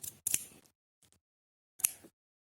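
Scissors cut paper away from an unboxed package, giving two quick close snips, a couple of faint ticks and then another sharp cut, with silence between them.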